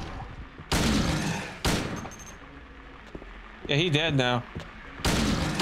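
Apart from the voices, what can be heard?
gunshots in the video game Silent Hill 2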